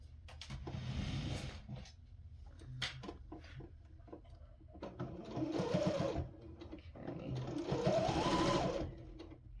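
A Janome sewing machine stitching a market bag, rapid mechanical needle chatter in three bursts separated by short pauses, close and moderately loud, with faint talk in between.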